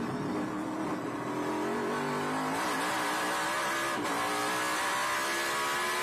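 Trans Am race cars run at Canadian Tire Motorsport Park toward the checkered flag, engines revving loud and steady with shifting pitch as they thread through traffic, no talking.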